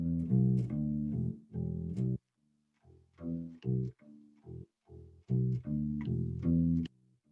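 A song intro picked slowly on a guitar or ukulele, each clean plucked note and chord sounding in a steady measured rhythm with brief pauses between phrases, close and clear with no talking.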